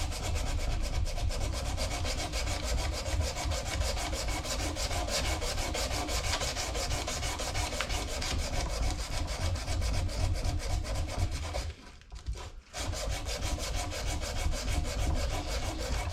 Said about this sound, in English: I'm sanding this up to 180, putting it away, getting the next knife out.